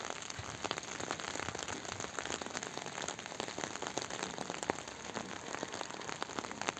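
Steady rain patters densely on a surface nearby, a continuous hiss of drops with no voices.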